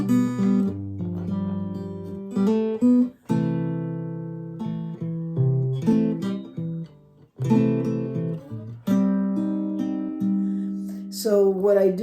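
A clean guitar plays a short melodic phrase over a sustained chord, notes ringing out and bending, repeated in several passes with brief pauses.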